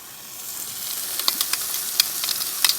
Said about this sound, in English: brown off these onions, make them a bit translucent